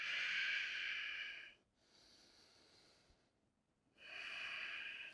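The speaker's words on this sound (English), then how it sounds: "Focus on slowing the breath down, breathing in through the nose and out through the nose." Slow breathing in and out through the nose during a power yoga flow: two close, airy breaths with a hushed pause between them, and no voices.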